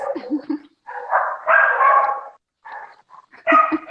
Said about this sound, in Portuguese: Cachorrinho.